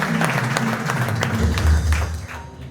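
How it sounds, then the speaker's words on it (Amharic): An audience at a prophetic church gathering applauds to welcome a newcomer, brisk clapping running throughout under a speaker's voice before tapering at the end. "አጨብጭቡለት።"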